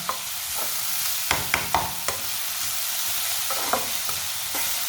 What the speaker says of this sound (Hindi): प्याज का कच्चापन ख़त्म करना है 1 मिनट पका कर